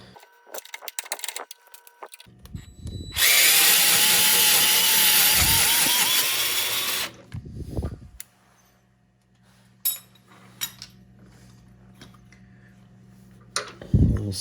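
Electric screwdriver whirring while fitting a rear auxiliary hydraulics outlet kit on a John Deere X700 series tractor, one loud continuous burst of about four seconds with a rising motor whine, then clicks and handling noises.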